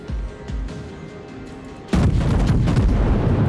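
Warship guns in a naval combat game fire in heavy booms. A couple of thumps come first, then a big salvo breaks into sustained rumbling blasts, loud and close.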